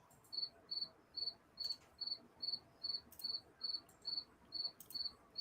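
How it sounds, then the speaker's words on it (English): Crickets chirp in a steady rhythm, sending out about a dozen evenly spaced high trills against a quiet nighttime background, faint and with no talking. "I love the cricket sound."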